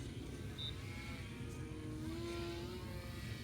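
A small RC para-wing STOL airplane's electric motor drones steadily in flight, a faint continuous buzz with a slowly shifting pitch heard from a distance.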